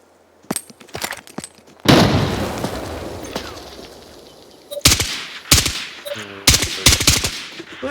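Gunfire in the video game Arena Breakout Infinite: single shots and short automatic bursts crack out loudly, with one long roaring volley partway through, then more rapid sharp bursts separated by brief pauses.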